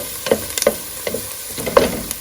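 Onions cooking in a pot for turkey wings with rice pilaf, a soft steady sizzle broken by several sharp scraping stirs spaced irregularly, close and fairly quiet.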